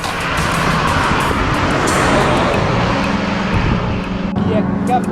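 Road traffic rushing past at high speed near the wreck of a burned Corsa, a steady loud roar of passing vehicles with a person speaking over it.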